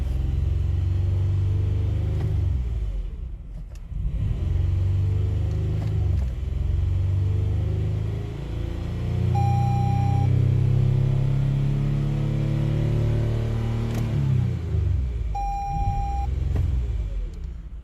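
A Toyota Highlander with a power-loss fault starts and revs, its engine rising and falling in several loud, steady swells close by, with two short electronic beeps partway through.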